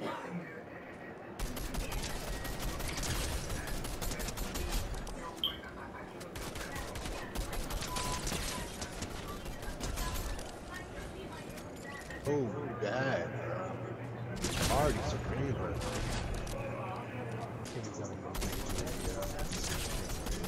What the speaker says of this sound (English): I'm getting shot from somewhere.